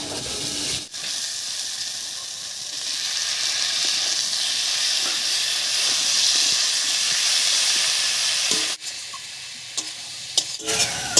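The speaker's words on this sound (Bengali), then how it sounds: "এবার এর মধ্যে দেব কুচি করে কেটে রাখা টমেটো" Chopped tomatoes hit a pan of frying dried fish and set off a loud, sustained hissing sizzle, broken by a couple of sharp knocks and a few clattering spatula scrapes near the end.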